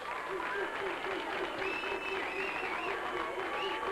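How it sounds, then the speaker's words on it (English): An audience at a kids' event in Indianapolis claps for Nurse Ronnie, a dense, continuous round of applause with whistles and faint cheering layered over it. "Give Nurse Ronnie a big round of applause"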